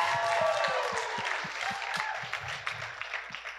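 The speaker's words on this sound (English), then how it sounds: "A round of applause for Charlie." An audience claps for a departing speaker named Charlie at a January 2019 SalesTO sales event. The applause is a steady, moderate patter across the whole stretch, fading slightly toward the end.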